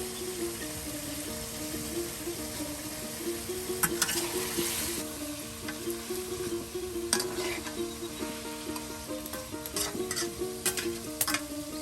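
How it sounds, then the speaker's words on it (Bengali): Chicken pieces frying in spiced oil during village cooking in Bangladesh, a soft steady sizzle with repeated scraping stirs and occasional splutters, no voices. "দেখুন একদম ডাল করতে করতে একদম এমনভাবে ভেজে নেওয়া হচ্ছে মুরগি মাংসগুলো"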